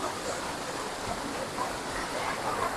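Water flows and drips off rocks at a multi-tiered waterfall, a steady close-up rush of splashing with scattered drips throughout, no voices over it.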